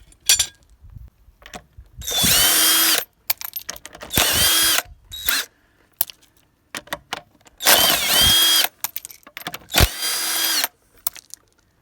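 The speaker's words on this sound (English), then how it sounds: "like what people call a windy gun" Pneumatic impact wrench taking the wheel nuts off a MK3 Ford Mondeo, with four or five loud, close rattling bursts, each a second or so long, separated by short quiet gaps and no talk.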